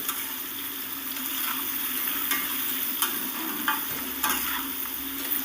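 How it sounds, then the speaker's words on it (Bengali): Potatoes fry in hot oil with salt and turmeric for a cauliflower and egg curry, giving a steady, close sizzle broken by a few soft stirring scrapes, with no voices. "এবার আমি তেলের মধ্যে দিয়ে দিলাম আর সামান্য লবণ আর হলুদ দিয়ে ভালো করে আলুটাকে ভেজে নেব"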